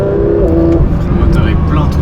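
A Porsche 911 992 GT3 RS engine hums loudly and steadily from inside the car while driving on the road, with people talking over the continuous low drone.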